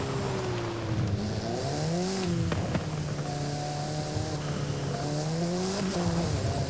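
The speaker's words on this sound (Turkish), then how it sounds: "arabanın sesi çok iyi değil mi ya?" A car engine in the Forza Horizon 5 racing game revs up and down in rising and falling sweeps, loud and continuous, with a sharp burst partway through and no talking.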